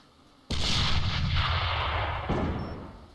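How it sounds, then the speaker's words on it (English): A sudden heavy blast of video game gunfire bursts out, followed by a second boom and a long rumbling decay, loud and close. "As Nega and Kusta both exchange gunfire"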